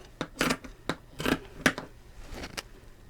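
Scissors snip excess fabric from a slim-fitting blouse at a sewing area, a run of short, close, crisp cuts spaced irregularly, about seven in three seconds.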